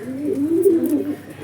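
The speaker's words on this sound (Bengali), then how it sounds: "পায়রাগুলো উঠছে এখন" Pigeons on a hot rooftop coo in a low, rolling, wavering call, close and fairly loud, with faint rustling and no talk.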